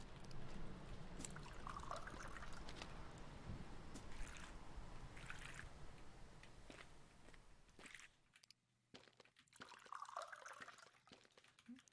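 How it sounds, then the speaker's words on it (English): Water trickles and splashes steadily onto lawn grass from a garden hose in the game Mon Bazou, a soft continuous wash with faint footsteps, briefly dropping out before resuming. "our grass needs some watering"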